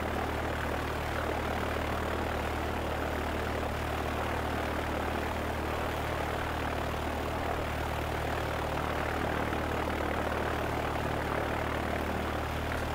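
Small propeller airplane on final approach to land, heard from inside the cabin as a steady, continuous engine and propeller drone with a low harmonic hum, holding constant throughout with no talk.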